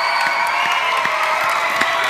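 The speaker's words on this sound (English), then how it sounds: "Can you please give them a round of applause and thank them for their hard work?" A school assembly audience of children and teachers applauds and cheers together, a dense, steady wash of clapping with whoops and shouts rising through it, loud and sustained throughout.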